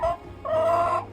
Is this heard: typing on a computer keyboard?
no